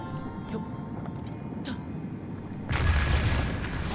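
A bomb goes off against a destructible wall in a Breath of the Wild shrine. After a quieter stretch with a few light clicks, one loud booming blast rolls out near the end.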